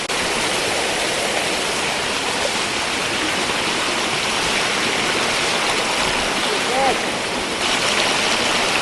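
Mountain stream water rushing over a stone path on a Mount Gede climbing trail, a loud, steady broadband wash that stays close and continuous throughout, with no voices over it.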